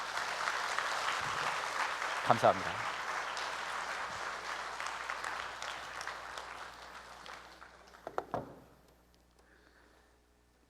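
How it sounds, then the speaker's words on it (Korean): Church worship audience applauding two people, steady clapping through most of the stretch, fading out near the end with a brief spoken thanks and a few bumps. "이 두 분께 박수 부탁드립니다"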